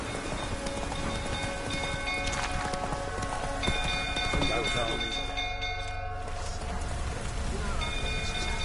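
The horse Roach gallops in the video game Witcher 3, a steady rhythmic clip-clop of hooves running under a voice, game music and other background effects.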